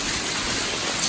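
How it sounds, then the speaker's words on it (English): Steady, dense patter of rain and hail drumming on a surface, a continuous broadband hiss with no voices. "we're getting hail and wind and rain and all that"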